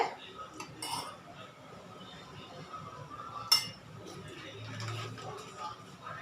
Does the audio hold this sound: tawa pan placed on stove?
yes